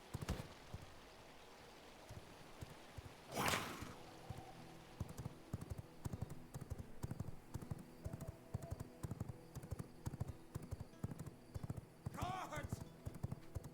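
A horse in V Rising gallops with steady, rhythmic clip-clopping hooves, with occasional louder bursts and a whinny, under scattered talk.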